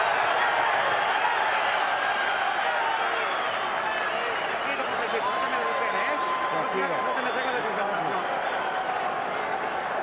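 A boxing arena crowd roars steadily on their feet, with a continuous wash of cheering and scattered clapping under a commentator's voice.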